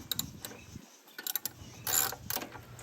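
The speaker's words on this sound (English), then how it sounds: "That's a very annoying sound. Sound of a ratchet." Quick bursts of sharp ratchet wrench clicks come in several short runs with brief gaps, close by and fairly loud, with a faint mechanical hum underneath, while working on a Briggs and Stratton mower.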